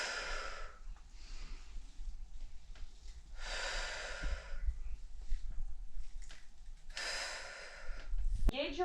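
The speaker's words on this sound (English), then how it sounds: "You take the breath out when you push and pull," Breaths are pushed out and drawn in during a push-pull exercise in a cardiac rehabilitation circuit, three long airy exhalations spaced a few seconds apart over a low background, with a voice talking in between.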